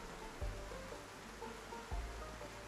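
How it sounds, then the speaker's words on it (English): Steady rain falls in the zombie survival game Project Zomboid, a soft continuous hiss with two low thumps breaking through. "It sure is raining a lot"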